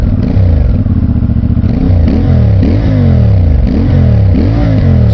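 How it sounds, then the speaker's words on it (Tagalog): A CF Moto 450MT motorcycle on its stock exhaust revs up and falls back again and again, loud and close, in a steady series of throttle blips over a running engine, with no talk. "sound check muna natin habang andito pa yung stock"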